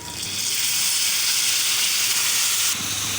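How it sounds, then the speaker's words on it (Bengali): Tomatoes with chili powder, turmeric and salt frying in a pan for a tomato sauce, giving a close, continuous hissing sizzle that holds steady throughout with no talking. "একটু ভালোভাবে জাল দিয়ে কষিয়ে নিচ্ছিলাম"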